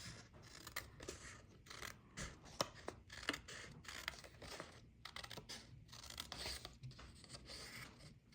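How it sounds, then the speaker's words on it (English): Scissors cut paper for a journal spread, a close, quiet series of crisp snipping and rustling strokes in an irregular rhythm, with no voices. "I'm gonna take this, I'm gonna cut off to this blue line here."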